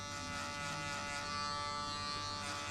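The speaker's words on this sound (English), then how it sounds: "Now we'll jump using the shaver." Electric shaver buzzing steadily while trimming hair during a mullet mid-fade haircut, a close, continuous motor hum alone with no talk.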